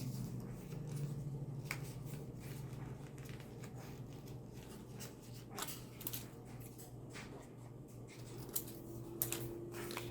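Scissors snip through paper shabby chic clear tags in a quiet indoor craft setting, a series of short, crisp cuts spread unevenly over a steady low hum, close to the microphone and fairly soft.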